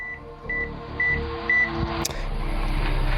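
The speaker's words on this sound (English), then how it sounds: "the beeping's getting faster" Four evenly spaced high electronic beeps from the Nikke Resident Evil collab video game ring out over a low droning backdrop, followed by a sharp click and a swell of noisy rumble.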